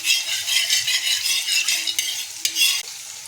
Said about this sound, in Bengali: এখন এই গরম তেলটাকে আমরা খুন্তি দিয়ে ভালোভাবে তাওয়ার উপরে বুলিয়ে